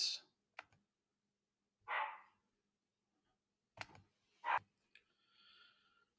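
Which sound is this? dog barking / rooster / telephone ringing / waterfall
dog barking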